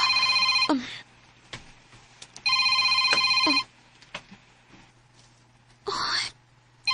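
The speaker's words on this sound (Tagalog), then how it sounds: "May nanawag." A telephone rings with an incoming call, three bursts of bright electronic trilling separated by pauses, close and clear over faint background noise.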